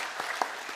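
A church congregation claps in welcome for visitors, a brief stretch of soft, distant, steady applause.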